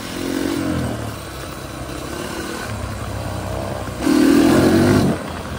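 Honda CRF150F dirt bike engine revving nearby, a loud rough roar that dips to a steadier idle-like drone mid-way, then surges again in a brief louder rev before easing back.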